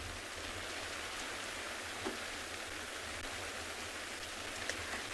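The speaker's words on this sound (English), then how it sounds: "It is raining quite a bit now." Steady rain falling on a stopped safari vehicle's roof and covers at sunrise, a dense, even hiss with occasional louder drips, close and continuous with no talking.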